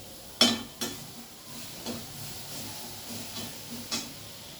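Mixed leafy greens being stirred in a pan over a soft background sizzle: a series of about six spoon scrapes and knocks against the pan, the first loudest, spaced irregularly and heard close with no talk.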